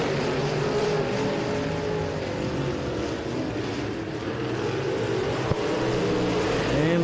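Race cars lapping Rockcastle Speedway, a steady, loud engine drone from the field with a brief sharp click near the end and no speech.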